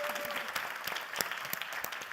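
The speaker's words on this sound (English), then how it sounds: "Yes, big applause," Short burst of audience applause at a university science contest forum, scattered claps rising and falling over about two seconds, moderately loud.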